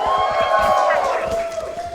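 A crowd at a Valorant esports event roars and cheers steadily, a dense wash of voices with rhythmic clapping or stomping running underneath throughout.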